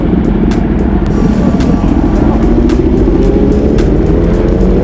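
A 2020 BMW S1000RR sport motorcycle roars loudly and close, with its engine pitch climbing steadily as it accelerates. Heavy wind rush sits underneath.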